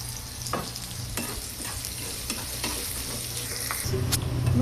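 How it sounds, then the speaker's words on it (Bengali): Onions frying in a pan for a banana peel curry, steady sizzle with repeated spatula scrapes and stirs close up, the frying growing slightly louder toward the end. "দেখুন পেঁয়াজটা প্রায় ভাজা হয়ে এসেছে।"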